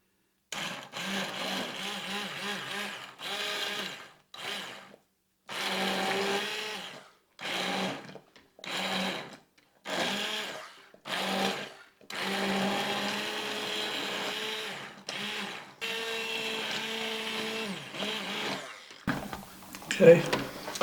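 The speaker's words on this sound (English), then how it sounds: "I'm going to use the immersion blender and try to blend it down some." An immersion blender whirs in repeated bursts, starting and stopping many times with short pauses, its motor pitch shifting as it churns through thick, hot tomato soup.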